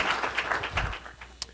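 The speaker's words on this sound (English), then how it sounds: "let's give them a round of applause" Brief, fairly quiet round of clapping from a small audience at a business marketing seminar, thinning out over about a second and a half with a final sharp clap.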